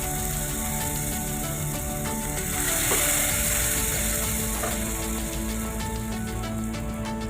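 Mustard seeds, dried red chillies, curry leaves and asafoetida tempering in hot oil make a loud, continuous crackling sizzle with dense rapid pops, heard up close with no talking.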